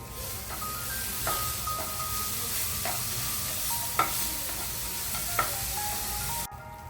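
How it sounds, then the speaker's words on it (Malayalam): Sesame seeds roasting in a pan with other ingredients for a sweet filling, a steady soft sizzle with repeated scraping stirs and light metallic clinks of a spoon against the pan, close and alone, no voices. "ഇതിലേക്ക് നമുക്ക് ഒരു സ്പൂണ് എള്ളുകൂടി ഇട്ട് കൊടുക്കുകയാണ് അതും കൂട്ടിയിട്ട് നന്നായിട്ടൊന്ന് മൂപ്പിച്ചെടുക്കാം"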